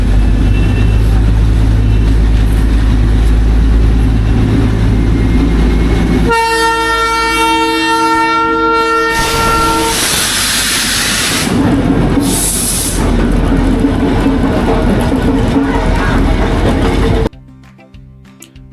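A toy train arrives on a hill railway track in Sikkim: a close, loud engine rumble gives way to a long tonal horn blast, then a rushing hiss and rumble as it passes before cutting off abruptly.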